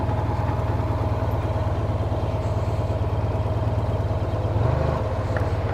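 A motorcycle engine idles close by with a steady low, even throb throughout, with a brief shift in tone near the end.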